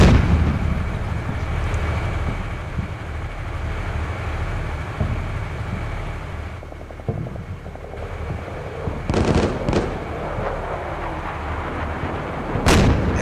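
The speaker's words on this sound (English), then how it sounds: "An AGS fire from the ridgeline is coming down upon my forces." Sustained AGS automatic grenade launcher fire raining down from a ridgeline in the PC war game Combat Mission Shock Force, a dense rumbling barrage of thuds and blasts with a few sharper cracks near the end.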